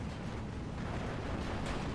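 Tank gunfire in the WWII strategy game Steel Division II, with T-34 and Valentine tanks in battle: a low, rumbling boom and rolling explosion noise, moderately distant and sustained, with no talk.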